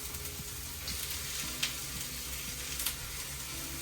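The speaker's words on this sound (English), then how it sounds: "You might hear some sizzling. Might hear some cooking." Vegetables and shallots fry in a pan for shrimp and rice, giving a steady, even sizzle throughout with a couple of brief clinks of stirring and no talk.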